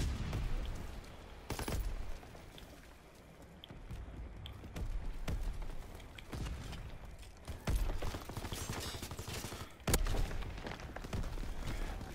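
Gunfire fills a Call of Duty: WWII battle around a bunker, with sharp bursts and scattered cracks over mechanical clatter and background battle noise, loud at moments and no speech.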